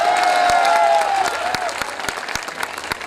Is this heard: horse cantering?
no